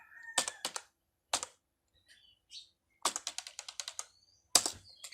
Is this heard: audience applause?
no